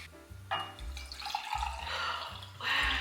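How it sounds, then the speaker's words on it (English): Water splashes into cups for dyeing Easter eggs in a few short pouring bursts, fairly close and moderately loud, with brief pauses between pours. "So now we have to put in the cups of water."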